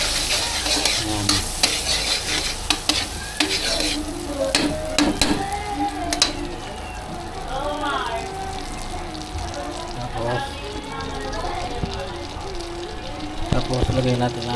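Butter sizzles and crackles in a frying pan, with a steady frying hiss under stirring and scraping clatter, close by, while people talk over it.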